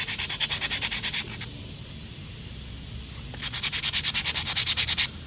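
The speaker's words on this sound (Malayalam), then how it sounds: "അപ്പോൾ ഇത് സാൻഡ് പേപ്പർ വെച്ചിട്ടൊന്ന് തുടയ്ക്കാം ഫുള്ളായിട്ട്." Sandpaper rubs back and forth across the rear brake disc of a Royal Enfield Himalayan 411 in two bursts of quick, rhythmic, close-up rasping strokes separated by a pause of about two seconds.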